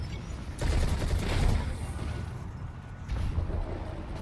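Rapid automatic gunfire from a weapon in the video game Destiny 2, loud and dense with a fast rate of fire, sustained bursts with a brief lull partway through.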